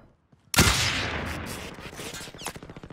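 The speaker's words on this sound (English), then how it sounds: "You are hella getting shot at, sir." A burst of close, loud gunfire in Call of Duty: Warzone, a sharp volley followed by rapid repeated shots that trail off over a few seconds, with no voices.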